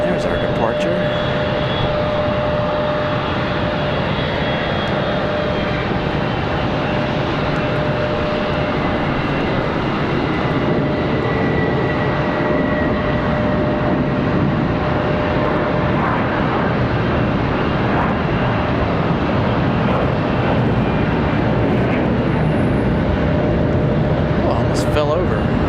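A jet airliner departs Charlotte Douglas International, its engines holding a loud, steady broadband roar with a faint high whine throughout, while people talk quietly nearby.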